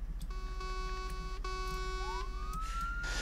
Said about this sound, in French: Arrêtez vos sirènes